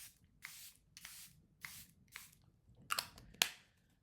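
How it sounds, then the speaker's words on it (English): A bottle of Charlotte Tilbury finishing setting spray mists the face in several short, soft hissing bursts spaced about half a second apart, close and fairly quiet, with two sharper pumps at the end. "I'm gonna just give myself some Charlotte Tilbury finishing spray"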